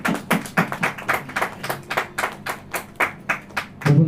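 A church congregation claps hands in steady unison, about three claps per second, loud and close, with no talking over it until a voice starts right at the end.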